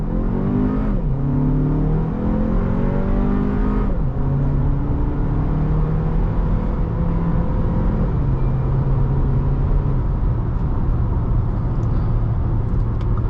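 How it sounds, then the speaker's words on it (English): A 2024 Audi Q3 45 TFSI turbo engine accelerates hard from a launch, rising in pitch through several upshifts, each marked by a drop in revs, loud and close with a steady road roar beneath. "Let's see if we get a quick launch in here. A little bit of turbo lag."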